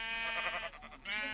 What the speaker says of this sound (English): Sheep, get off my land!